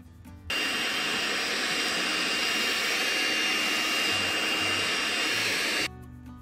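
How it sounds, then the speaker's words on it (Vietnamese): A Makita 18V cordless handheld vacuum cleaner, used for cleaning inside cars, switches on and runs with a loud, steady high-pitched whine for about five seconds, then cuts off. "Cái máy hút bụi này rất tiện lợi khi chúng ta hút bụi trên"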